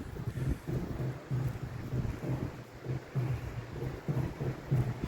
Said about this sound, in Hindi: हवा की आवाज सुन रहे होगे आप,